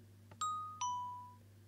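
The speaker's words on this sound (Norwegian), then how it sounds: "Vi har fått opp dørklokke" A two-tone doorbell chime in Minecraft, a bright ding followed by a lower dong, each ringing out and decaying over a quiet background hum.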